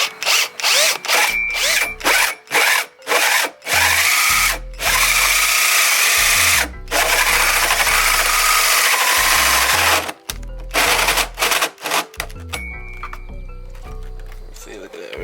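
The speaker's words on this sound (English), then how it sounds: "So now I got my drill bit. And you'll kind of match up the hole. And we're gonna start cutting and try to take it slow so the drill won't overheat." Power drill bit boring a speaker hole in a 2013 Ford Fusion during a speaker upgrade, with loud whirring bursts, stops and restarts, then long sustained cutting runs, close, with a person talking between and over the drilling.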